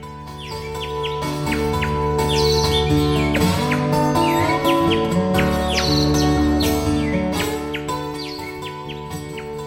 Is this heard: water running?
no